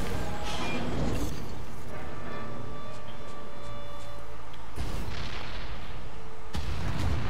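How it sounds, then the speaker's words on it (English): A loud, dense explosion roars through the inFAMOUS Second Son video game, with heavy booming blasts and mechanical clatter filling the whole stretch and sharp new bursts hitting partway through and again near the end. "And there's the kaboom we wanted."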